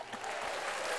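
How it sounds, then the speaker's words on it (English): A short burst of audience applause, dense clapping that swells slightly and continues steadily with no voices over it. "I need some applause."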